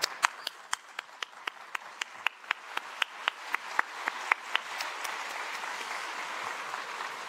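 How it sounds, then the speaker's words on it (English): Applause at a speech event, heard as sharp, evenly spaced claps close by at first and then spreading into a softer, sustained patter of many hands that fades toward the end. "Ladies and gentlemen, another big applause to Randhika"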